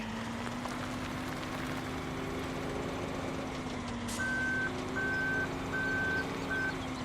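A truck's engine idles steadily in Farming Simulator 17 before its reversing alarm starts near the end, sounding four evenly spaced beeps over the engine drone.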